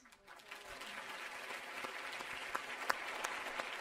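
Applause from a large seminar audience in Japan, starting soft and swelling into a steady, dense wash of clapping with a few sharper close claps, fairly faint overall and with no voices over it.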